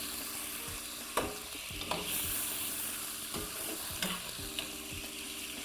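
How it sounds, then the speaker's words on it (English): Broccoli with garlic and olive oil is stirred in a pan, soft sizzle underneath and a few sharper spoon scrapes and clacks scattered through, close but fairly quiet, with no voices. "I'm going to give it a really good stir. I want to coat all that broccoli with that great garlic and olive oil."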